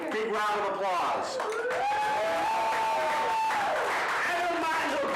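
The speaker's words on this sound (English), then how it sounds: "Big round of applause." An audience at a live TV-night event claps and cheers as a volunteer comes up, a broad wash of applause with someone talking loudly over it throughout.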